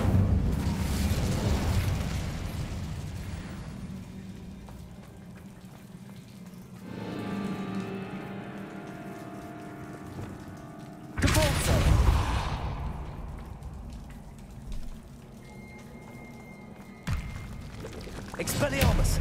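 An Incendio fire spell cast in Hogwarts Legacy bursts out with a loud whooshing roar of flame, followed by crackling, bubbling bursts and later booming blasts and further spell effects over a low ambient rumble.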